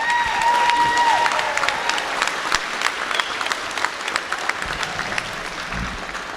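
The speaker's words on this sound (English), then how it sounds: "could we have a round of applause for the beautiful bride in this gorgeous wedding?" Wedding guests at a reception applaud the bride, a dense wash of clapping with a few scattered cheers that fills the room and holds steady before easing slightly toward the end.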